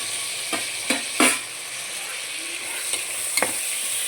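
Chopped tomatoes frying in a pan of chicken pulao masala, a steady soft sizzle broken by several sharp scrapes and clinks of a spoon stirring, close and fairly quiet.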